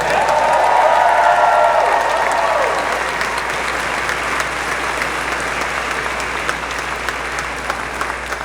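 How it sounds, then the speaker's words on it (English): An audience claps in sustained, dense applause that stays steady throughout, loud at first and then easing slightly, with no speech over it. "Let's give them another round of applause."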